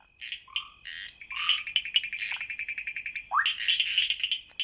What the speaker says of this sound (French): ce bruit incessant des grenouilles que j'entendais au loin